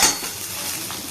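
A utensil stirs food in a cooking pan with a brief scrape and clink up front, followed by a soft sizzle close by.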